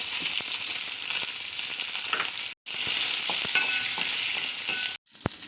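Ginger pieces and peeled shallots sizzle steadily in a hot pan, a loud close hiss with scattered pops and stirring scrapes, twice briefly cut to silence.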